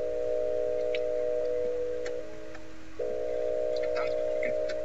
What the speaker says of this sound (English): Sounds like a phone call.